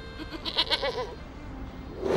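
A cartoon goat gives a short, nasal bleat with a wavering, stepped pitch, heard close and clear over a faint background.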